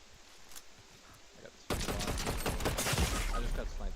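A sudden burst of rapid gunfire from the video game Fortnite breaks in after a quiet stretch, loud crackling shots in a dense volley that continues to the end.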